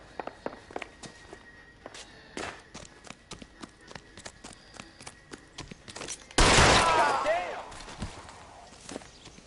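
A single sharp gunshot bursts out and rings in L.A. Noire after footsteps and scattered clicks, echoing away over a few seconds.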